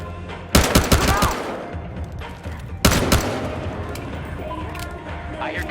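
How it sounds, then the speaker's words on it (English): Video game gunfire, two loud bursts of rapid shots a couple of seconds apart, each sharp and close with a ringing tail, over steady background ambience. "I hear gunshots"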